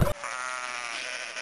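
A sheep gives one sustained, wavering bleat, loud and close, held for over a second after a brief burst of other noise at the start.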